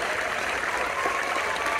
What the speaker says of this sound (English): please, a round of applause for Eric Beckman